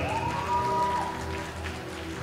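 Audience at a Korean NABBA WFF bodybuilding grand prix final gives sustained applause, a steady dense clapping wash under a faint held tone from the hall.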